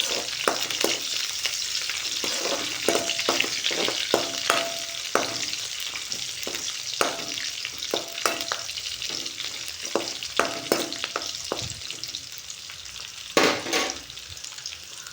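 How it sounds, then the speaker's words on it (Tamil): Green chilies sizzle steadily in hot oil with garlic for a fish curry, while a spoon stirs and scrapes the pan in irregular knocks, close and fairly loud throughout. "ரெண்டு பச்சை மிளகாவையும் சேர்த்துக்கலாம் சேர்த்துட்டு நல்லா கிண்டி விடணும்"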